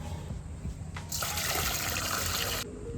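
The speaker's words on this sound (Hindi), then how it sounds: "बाहर एक बार और पानी डालेंगे" Water is poured outdoors from a container onto the ground, a steady broadband splashing rush that starts about a second in and runs for roughly a second and a half before dropping back to quiet background.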